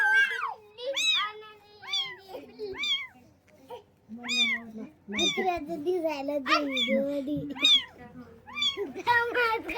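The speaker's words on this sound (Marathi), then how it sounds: "आमच्या घरी आज एक मांजरीचं पिल्लू आलं भाऊ" A kitten meows repeatedly in high, rising-falling cries, close by, while people talk in the background between and over the meows.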